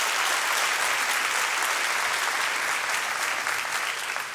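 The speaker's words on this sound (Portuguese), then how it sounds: "Pode dar uma salva de palmas" A church congregation gives sustained, dense applause throughout, many hands clapping evenly at close range without a break.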